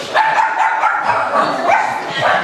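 Dog barking at a small-town outdoor dog show, a few short yips and barks mixed with crowd chatter and people talking nearby, fairly close and moderately loud.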